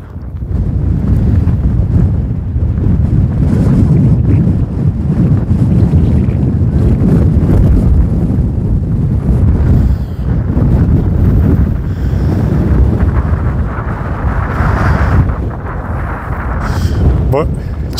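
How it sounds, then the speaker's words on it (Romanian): Strong wind buffets the microphone in heavy, surging gusts throughout, rumbling low and steady with brief lulls. "Vântul care suflă cu putere."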